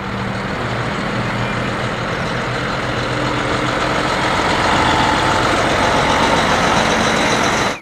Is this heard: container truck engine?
yes